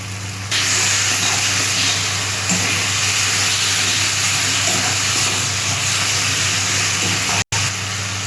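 Tomato puree hitting hot oil in a pan while cooking magur fish in spicy oil gravy, giving a steady broadband sizzle and hiss that holds loud and even throughout, broken by one brief dropout near the end, with no talk.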